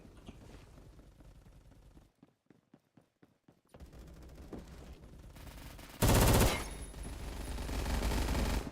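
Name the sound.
gunfire from the video game Phantom Forces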